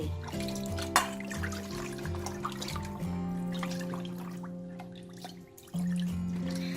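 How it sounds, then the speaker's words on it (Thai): Passion fruit juice poured into bottles, a steady close trickle and gurgle of liquid with rising tones as each bottle fills, briefly pausing before the pour resumes louder. "เราก็นำมาบรรจุขวดกันเลยค่ะ เรามากรอกกันเลย"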